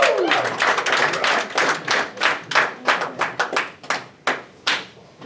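A comedy club audience claps for comedian Giles Chickering in a thin, scattered burst of individual handclaps, close and uneven, tapering off into a few separate claps.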